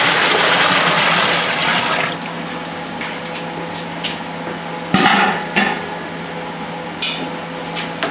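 Hot water pours steadily onto grains while brewing all-grain beer, a continuous splashing rush that thins after two seconds, broken by a few sharp knocks and clatters from stirring and the vessel.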